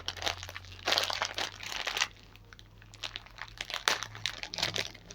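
Plastic packaging of a Labubu-style blind-box toy crinkles and crackles as it is torn open, in close, irregular bursts of rustling that come and go.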